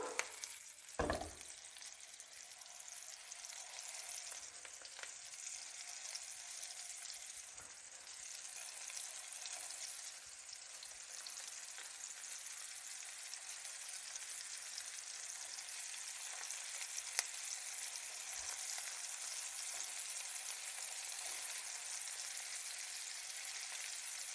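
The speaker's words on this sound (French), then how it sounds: "je vais pouvoir mettre mes autres boulettes dans ma poêle. Hop là. Je fais en sorte d'avoir de l'huile partout." Beef meatballs fry in oil in a pan, a soft, even sizzling hiss that runs continuously with faint pops and a brief knock near the start, fairly quiet and with no talk.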